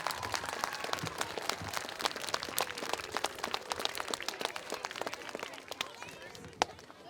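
An audience at a veterans event applauds in a thick patter of scattered claps that runs throughout, with voices murmuring underneath.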